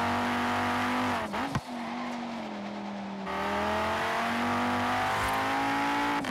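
A five-cylinder Audi RS3 in Forza Horizon 3 races along with a steady loud engine drone, drops pitch sharply as it brakes and shifts, then its revs climb again in a continuous close engine roar.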